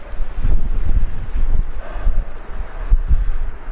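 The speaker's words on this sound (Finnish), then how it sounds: "Puhuri käy." A gust of wind sweeps through a Finnish forest near Urjala, a rising and falling rush with rustling leaves and low microphone buffeting, fairly loud.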